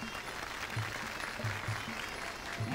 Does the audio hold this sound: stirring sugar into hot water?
no